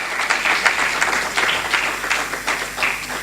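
A church congregation at an evangelistic service applauds and cheers continuously in a dense, steady wash of clapping with some shouting.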